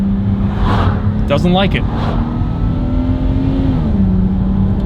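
Car with a ZF 8-speed automatic gearbox downshifting into first, the engine note swelling and dropping steadily and near, under a short remark from someone in the car.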